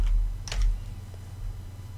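A few quick keystrokes on a computer keyboard, a short cluster of crisp clicks followed by quiet, made while pressing Ctrl+U during photo editing.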